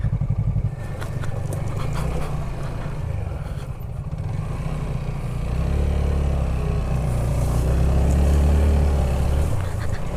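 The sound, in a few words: TVS Apache motorcycle riding off-road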